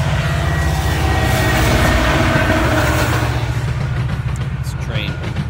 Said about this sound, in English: Train going by. It's hard to hear, so I'm just going to let it.